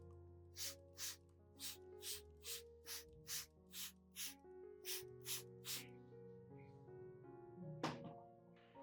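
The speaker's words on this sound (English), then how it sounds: "You should spray both the upper and lower surfaces of the leaves" A hand spray bottle mists solution onto orchid leaves in a quick series of about twelve short, faint pumping hisses, laid over a quiet background of music.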